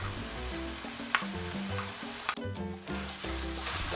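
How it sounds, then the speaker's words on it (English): Pork sizzles and crackles loudly as it is stir-fried in a hot pan with mirin, soy sauce and black bean garlic sauce, with steady frying hiss and scraping stirs throughout. "Mix them with the pork mixture."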